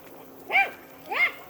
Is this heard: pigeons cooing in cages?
no